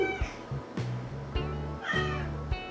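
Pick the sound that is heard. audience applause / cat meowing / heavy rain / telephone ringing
cat meowing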